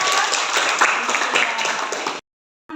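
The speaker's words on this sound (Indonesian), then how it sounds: "tepuk tangan buat Aisyah" A classroom group applauds for a student during a lesson, a short burst of dense clapping that cuts off abruptly into silence after about two seconds.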